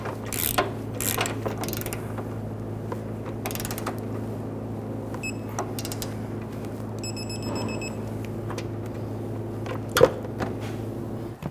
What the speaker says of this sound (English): Now we're going to snug down this bolt here and then we'll torque it to